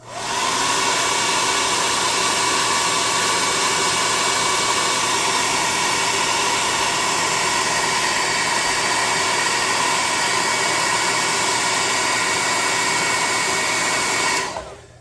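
A hair dryer blows steadily and loudly at close range for about fifteen seconds over a small handmade model bike for a tabletop game, then cuts off abruptly at the end.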